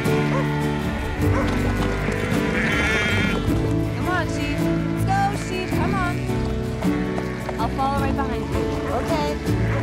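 A flock of sheep bleats repeatedly while being herded, overlapping nearby calls over ongoing movement noise, with people talking among the animals.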